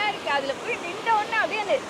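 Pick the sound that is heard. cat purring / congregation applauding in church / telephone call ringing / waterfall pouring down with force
waterfall pouring down with force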